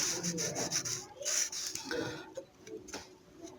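A faulty RAM module rubbed by hand: close, dry scraping strokes in short bursts with small ticks, loud and steady, no talking.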